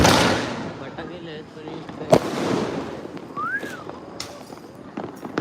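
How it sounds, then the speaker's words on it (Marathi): Scattered Diwali firecracker bangs, one sharp loud burst standing out, with a whistling rocket rising briefly, heard under ongoing conversation. "यावेळी दिवाळीला फटाकडेच काही फोड राहिले लोक"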